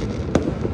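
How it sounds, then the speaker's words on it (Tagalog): New Year fireworks crackle and pop, with one sharper burst standing out amid a continuous rumbling wash of distant explosions. "The fireworks are beautiful. Enjoy the fireworks."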